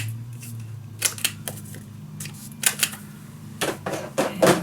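Scissors snip the corners off scrapbook paper for a mini album, a series of short crisp cuts in irregular bursts, close and clear with no talking.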